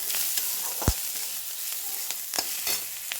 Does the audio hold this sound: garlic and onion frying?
yes